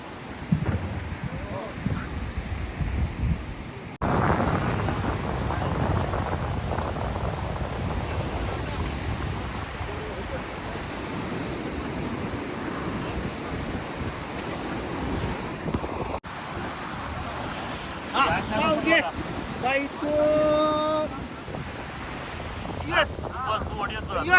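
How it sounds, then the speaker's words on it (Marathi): A boat heads out onto the sea off Munage beach in the Konkan after sunset, with constant surf and wind rushing across the microphone. Water noise swells midway, and faint voices rise near the end. "चला आता आपली चालली आहे बोट पाण्यामध्ये"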